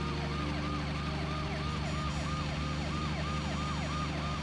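A police siren in the truck-driving video game Retro ChillTruck wails in steady, repeating rising and falling sweeps over a constant low engine drone, with no talking.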